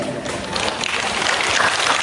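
A crowd of people claps at a community gathering, a dense, steady burst of applause from nearby that lasts about two seconds.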